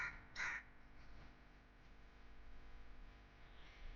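A single short caw from a crow rings out at a distance, faint and brief, followed by a low, steady background hum.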